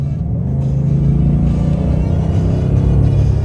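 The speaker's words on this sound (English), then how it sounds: "it's got a little throaty rumble to it. It's dual exhaust out of the back of the muffler." Deep, steady throaty rumble from the dual exhaust of a 2015 Chevrolet Silverado pickup while driving, a continuous low drone with slight swells under the engine note and no voices.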